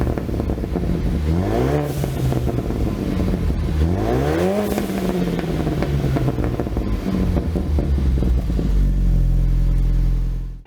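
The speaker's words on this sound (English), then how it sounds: "And with the valve fully open, it obviously sounds awesome. You get a super aggressive exhaust note out of it." A 2021 Ford Bronco with the 2.3L engine and an XForce cat-back exhaust, valve fully open, revs loudly and close up in several rising sweeps, then settles into a deep, rumbling idle.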